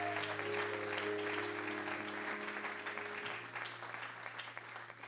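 A church congregation applauds in a steady, fairly loud wash of clapping that gradually thins out, with a low sustained hum beneath it.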